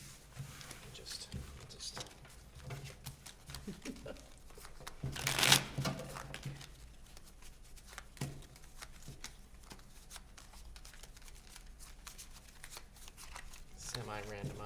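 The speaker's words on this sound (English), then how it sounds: "I'll shuffle these up here" Playing cards being shuffled at a table during a Sleeping Queens card game, a soft riffling patter with one brief louder burst, heard under ongoing conversation.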